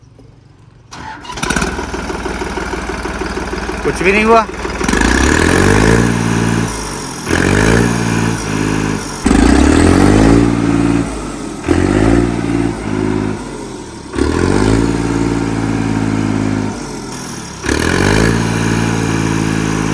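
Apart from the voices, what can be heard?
Mahindra Arjun Novo tractor engine running without a silencer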